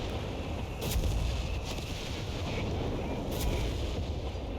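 Artillery fires during a World War II strategy battle in Company of Heroes 3 on the Monte Cavo map, with two heavy booms spaced a few seconds apart over a steady, rumbling battlefield backdrop.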